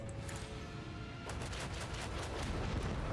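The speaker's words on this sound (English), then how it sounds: "Port cannons." Port cannons fire in the video game Warhammer 40,000: Rogue Trader, a rumbling boom that swells partway in and rolls on as a dense, heavy barrage with no talk.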